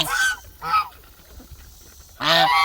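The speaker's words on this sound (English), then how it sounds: "Those are wild ducks." Loud honking calls from wild ducks in two short bursts, then a quieter gap before another harsh, close burst of calls.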